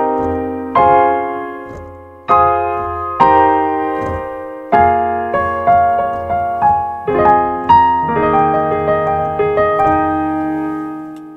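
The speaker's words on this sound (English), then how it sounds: "jazzy chord progressions that sound like this" Jazzy chord progression for an EDM track, played as a series of sustained keyboard-like chords with sharp attacks, about a dozen changes in a steady rhythm, close and loud with no voices.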